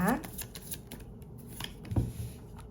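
Tarot cards shuffled and drawn at close range, a few quick papery riffles and snaps, faint and intermittent, while someone talks softly over them.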